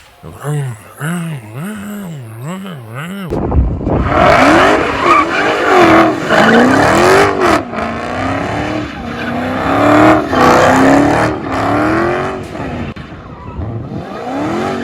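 A racing car engine drones at a steady pitch without shifting, with tire squeals and wavering engine tones under fast play, loud and busy.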